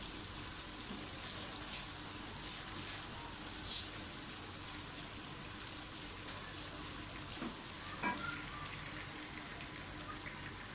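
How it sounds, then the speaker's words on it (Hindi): Steady crackling sizzle of spices frying in hot oil in a pot for mutton biryani, a continuous close hiss with a few brief louder pops. "पहले इन सब चीज़ों को अच्छी तरह से फ्राई कर लें।"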